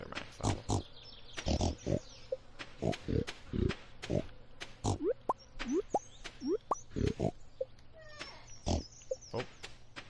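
Pigs grunt and oink in the farming video game Stardew Valley, short repeated snorts mixed with popping game effects, quick and irregular with no talking.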